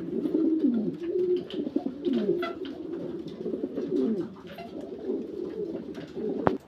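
A pair of Roman Gaul pigeons coo close by in repeated low, rolling phrases that continue throughout.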